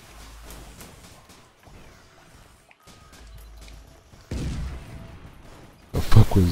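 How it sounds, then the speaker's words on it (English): Gunfire from the video game Risk of Rain, heard as a sudden loud burst of sharp shots at the very end, after a low stretch of game sounds and a louder rise midway. "Sound like a gunshot. Like a real gunshot."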